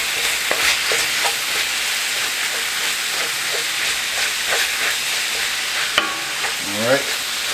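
Ground meat with kosher salt browns in a pan for sloppy joes, a loud continuous sizzling hiss with soft scraping and chopping taps of a utensil breaking it up, close by.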